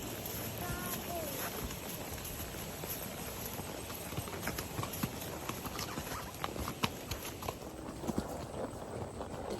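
Hooves of a ridden Arabian horse clip-clop on a family horse farm, a quick irregular patter over loud, steady outdoor noise and wind, with some background sounds of people.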